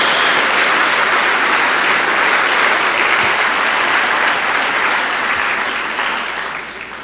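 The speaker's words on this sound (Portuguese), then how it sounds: "Dê uma salva de palmas a Jesus." Church congregation applauding together, a loud, dense and steady wash of clapping that carries on for several seconds with no break before fading slightly at the end.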